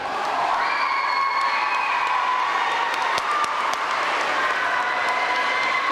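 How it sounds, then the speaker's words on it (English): Crowd at a middle school 6th and 7th grade awards ceremony applauds award-winning students, a steady wash of clapping mixed with children's excited shouts and cheers throughout. "Please give them a round of applause."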